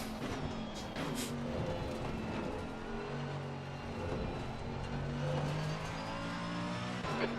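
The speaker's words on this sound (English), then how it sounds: "the Lexus, it sounds good in ACC" Lexus race car engine in the racing game Assetto Corsa Competizione, a continuous faint drone with revs climbing and falling through gear changes, alone with no talk.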